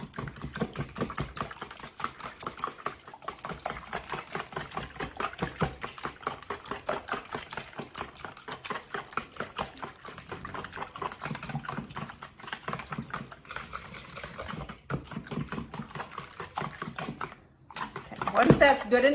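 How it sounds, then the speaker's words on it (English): Eggs and milk whisked together in a bowl, a fast, steady stream of light clicking and tapping strokes that runs on for most of the stretch, close by and fairly quiet, with brief pauses near the end. "We're gonna whisk this mixture together."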